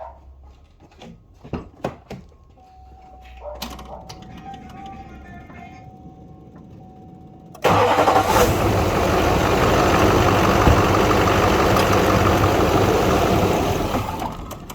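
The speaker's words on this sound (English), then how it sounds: "I've already pumped it. It should already be ready. Let's see if it starts up." A Duramax LLY diesel truck engine cranking after fuel leak repairs: brief clicks and a short crank, then the engine catches and settles into a loud, steady diesel idle close by, with faint talk early on.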